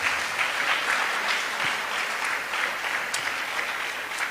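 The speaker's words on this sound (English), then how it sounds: "Let's give a big round of applause." An audience at a temple Sunday Feast breaks into sustained applause, a dense, even patter of many hands clapping that carries on steadily throughout without pause.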